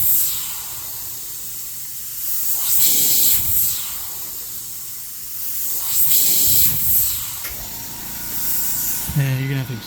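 An H&S Evolution Solo airbrush fitted with a 0.4 mm needle and nozzle sprays paint in a steady airy hiss that swells in several bursts, close and fairly loud, with a faint rattle near the end.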